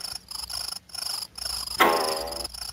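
A cat purring in the video game The Visitor, a steady close purr in rhythmic pulses that swells louder and brighter near the end, heard alone.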